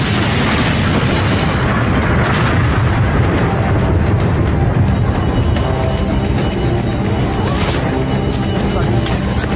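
A van explodes in a city attack, a loud sustained blast and roar filling the whole stretch, with a voice talking over it.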